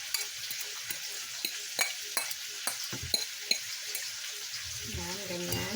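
Anchovies and sliced onion frying in a pan, giving a steady bright hiss broken by sharp clicks and scrapes of a utensil, with a bubbly burst near the end.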